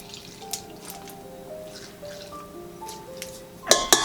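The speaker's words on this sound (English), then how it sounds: "Pouring that over the top." A tablespoon of lemon juice poured over hand pie filling, heard as light wet drips and trickles near the mic, with a louder splashy burst at the end.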